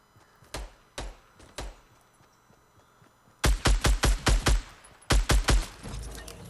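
Video game gunfire in Fortnite Battle Royale: a few separate shots, then two rapid bursts of loud, close, cracking shots with no talking.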